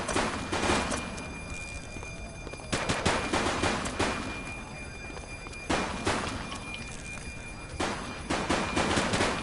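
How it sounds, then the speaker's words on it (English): Rapid bursts of gunfire in a police shootout after a bank robbery in The Precinct video game, clustered volleys of sharp shots with brief lulls between them, loud and close throughout. "police are engaged in a fierce shootout following yet another bank robbery"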